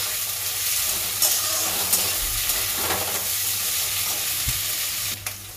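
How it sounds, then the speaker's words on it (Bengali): Chicken pieces fry in a pan until browned, a close continuous sizzle and hiss with occasional scrapes and knocks as they are turned, and no voices. "চিকেনগুলোকে এবার লাল লাল করে ভাজতে হবে"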